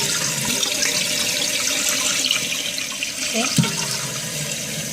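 A toilet tank refilling after a flush, fitted with a Fluidmaster universal repair kit, gives a loud steady rush of running water close by, with a single brief spoken word over it.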